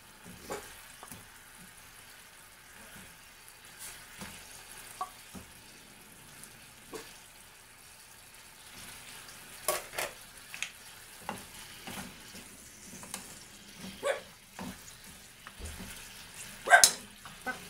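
Fish steak frying in a pan with kalamansi, a soft steady sizzle broken by scattered sharper pops and crackles, a few louder spatters near the end.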